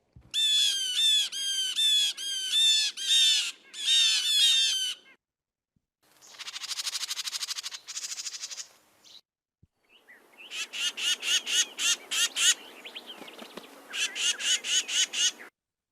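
Birds mobbing an owl give loud, harsh, broadband squawking calls in rapid repeated bursts, near and alone, with short gaps between volleys.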